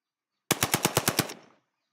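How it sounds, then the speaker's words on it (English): A machine-gun-style gunshot sound effect for a Duck Hunt game: a rapid burst of about nine sharp, close shots in under a second, fading out quickly into silence. "Let's see if we can find a gun sound."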